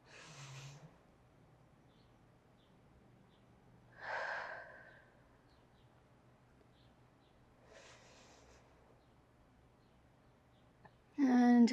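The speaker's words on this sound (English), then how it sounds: "we'll fill the chest with air, and we'll let it go. 2 more big breaths in" Slow, deep breaths during a yoga flow, three soft airy inhales or exhales spaced several seconds apart in a quiet room, followed by a sudden louder sound at the end.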